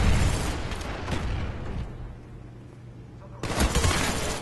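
Gunfire and grenade blasts in a competitive online shooter match, heard as loud bursts of rapid shots and booms that ease off mid-clip and then return at full force near the end.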